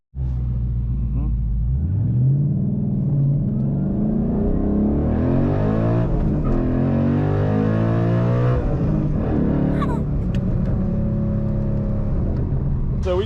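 A 2012 Ford Mustang Boss 302 accelerating hard, its engine revving up through the range with a loud, steady rising roar and a brief shift dip, close and continuous for the whole stretch.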